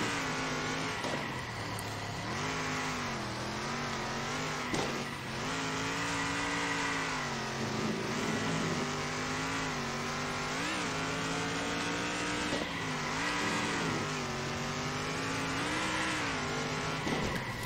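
Stock car engines in Circuit Superstars drone steadily with repeated rising and falling pitch sweeps as the cars lap, a continuous moderately loud racing roar with no talk.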